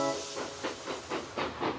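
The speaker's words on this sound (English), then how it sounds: "His pistons popped. His traction rods rattled, and his boiler bubbled and bounced." A steam engine lets off a series of rhythmic hissing bursts of steam, about six puffs that come close together and then stop.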